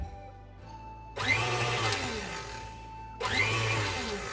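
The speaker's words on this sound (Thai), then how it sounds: "เอาไปปั่นนิดนึงเพื่อให้มันเข้ากันแค่นี้" An electric hand mixer whirs in two short bursts, briefly beating toffee cake batter mixed with warm melted butter, with a pause of quiet between runs.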